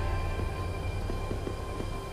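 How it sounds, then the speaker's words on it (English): A train idles at a station in the game Lightning Returns: Final Fantasy XIII, a steady rumbling drone with a faint series of soft rhythmic clicks layered over it. "The trains stopping at this station carry people and bring goods from Usnot."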